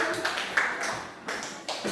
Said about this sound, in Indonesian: tepuk tangan buat kelompok durian Indonesia